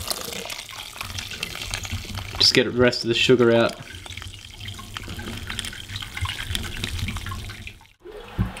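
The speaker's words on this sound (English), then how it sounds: "put in a bit of sparge water." Sparge water poured over drained grain during a homebrew rye IPA brew, a steady running, splashing flow with a voice speaking briefly over it.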